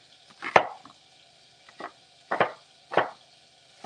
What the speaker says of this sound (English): I was just going to cut one whole entire Spanish onion